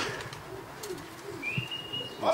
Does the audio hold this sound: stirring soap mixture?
no